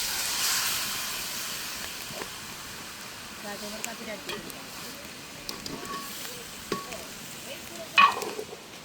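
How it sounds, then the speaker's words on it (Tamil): Meat goes into a pan of fried onions, sizzling with a steady hiss. Scattered clinks and scrapes of stirring sound up close, and a louder clatter comes near the end. "எங்களுக்கு வெங்காயம் எல்லாம் பொரிஞ்சிட்டு நான் இறைச்சியை சேர்த்துக்கொள்ள போகிறேன்"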